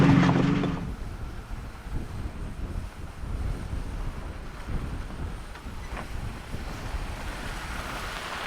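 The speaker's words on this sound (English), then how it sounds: "I wish I could put the drone up, but it is super windy." Strong wind buffets the microphone on a mountain shelf road above the Buttermilks near Bishop, a continuous rough roar with gusts. A brief louder thump comes at the start.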